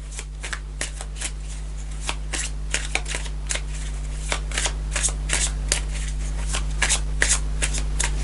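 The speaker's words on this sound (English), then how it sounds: "I'm going to clarify with the black and gold Rider Waite Tarot deck" A black and gold Rider Waite tarot deck is shuffled in a steady stream of crisp card riffles and soft slaps, close and alone over a low hum.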